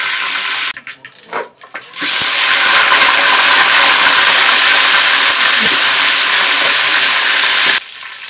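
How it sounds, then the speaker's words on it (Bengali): Chicken pieces sizzle loudly in hot oil, a steady continuous hiss that follows a few brief clattering sounds. "বাকি চিকেনগুলো একই প্রসেসে আমি ভেজে নেব"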